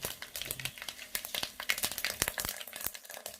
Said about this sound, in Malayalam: കടുക് പൊട്ടി കഴിഞ്ഞിട്ട്